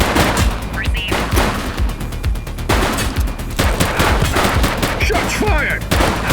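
Rapid, loud gunfire in a police video game, a dense barrage of overlapping shots and bursts continuing throughout, with faint game voices underneath.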